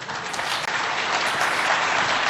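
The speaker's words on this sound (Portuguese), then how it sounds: "São merecidas as palmas às quais eu me associo" A conference audience claps in a brief, dense burst of applause that stays loud and steady to the end, with no speech over it.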